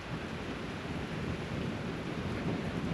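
Steady rain and rumbling thunder from a storm that has just intensified, a dense continuous wash of sound with low rolling energy throughout, no voices.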